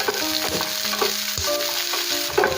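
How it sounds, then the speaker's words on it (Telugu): Chopped onion and garlic cloves crackle and sizzle steadily in hot oil in a pan. A spoon stirs and scrapes against the pan now and then, and a faint steady tone hums in the background. "ఒక చిన్న ఉల్లిపాయ ఇలా పెద్ద ముక్కలే కట్ చేసి యాడ్ చేసుకోండి అలాగే ఒక ఎనిమిది నుండి పది వరకు వెల్లుల్లి రెబ్బలు కూడా యాడ్ చేసేసుకొని వీటిని ఫ్రై చేసుకోవాలి"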